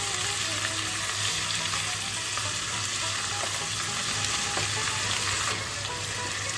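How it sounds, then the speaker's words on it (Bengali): Vinegar-marinated chicken pieces fry in a pan with a loud, continuous sizzle and crackle that stays steady from start to finish, with no talking over it. "এবার আমরা চিকেনটাকে একটু ভেজে নেব।"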